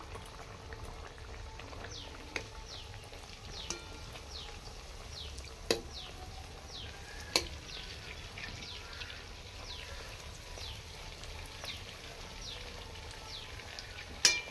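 Bihari khaja pastries frying in lightly heated oil, a faint, steady bubbling hiss with a few soft clicks and pops scattered throughout, no voices.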